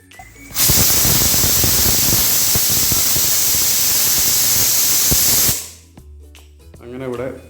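A pressure cooker with kabuli chickpeas inside lets out a loud, steady hiss of escaping steam for about five seconds, then cuts off abruptly, leaving quieter kitchen sounds and a voice.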